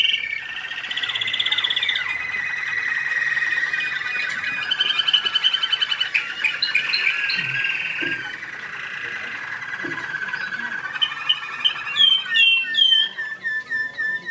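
An American Singer canary sings a long, loud, continuous song of rolling trills and bright whistled phrases, ending in rapid chirps, close up with no talking.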